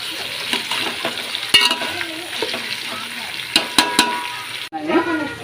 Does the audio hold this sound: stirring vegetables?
yes